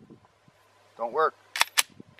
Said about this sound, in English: Single shot if you don't have the Nielsen device on.